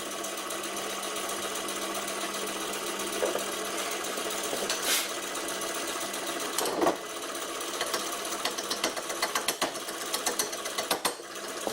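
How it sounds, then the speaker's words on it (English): Vintage bench lathe running for wood turning, a continuous buzzing spindle hum with a steady tone, joined by scattered knocks and scraping contacts that grow more frequent toward the end. "If I tighten up the tailstock too much, the spindle will start to slow down."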